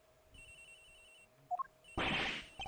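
A telephone in Ace Attorney Investigations rings with a short electronic trill, followed by a loud burst of crashing game noise.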